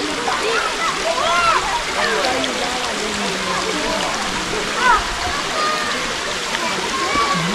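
Water flows and splashes steadily at Lesmurdie Falls in a national park near Perth, Western Australia, a continuous close wash of rushing water, with speech and scattered bird chirps over it.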